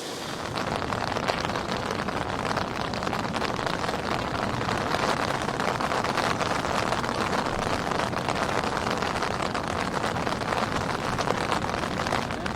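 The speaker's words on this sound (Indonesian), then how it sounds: "Jadi situasinya sekarang lagi hujan nih, jadi harus ngungsi deh." Heavy rain pours steadily onto a campervan awning during a stormy camp beside a cliff edge, a dense continuous patter and hiss that holds for the whole stretch, close and loud with no voices.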